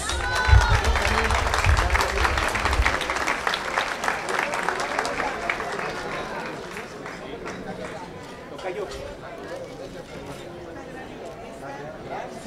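An audience at a political leaders' meeting in Naucalpan applauds Mrs. Aurorita Torres, loud clapping at first that gradually thins and fades, with voices and chatter mixed in and some low thumps early on.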